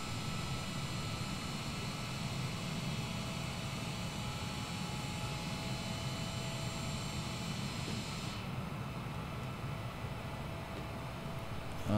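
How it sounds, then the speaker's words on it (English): A Boeing 787 in Microsoft Flight Simulator 2020 on final approach gives a steady, loud jet-engine drone with broadband cabin rush, constant throughout with no voices. "The plane is aligning itself with the runway, coming for the approach."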